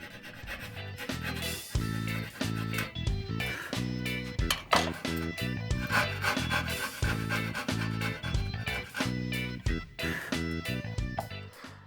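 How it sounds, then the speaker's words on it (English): A coping saw cutting waste from wooden dovetails, close rhythmic rasping strokes back and forth in a steady sawing pattern, each stroke a short scratchy burst, continuing throughout without talk. "remove the majority of the waste with a coping saw"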